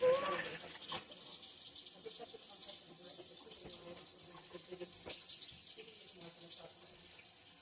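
Water runs in a steady, close stream as two-thirds cup of water is poured while making Hamburger Helper, continuous for several seconds.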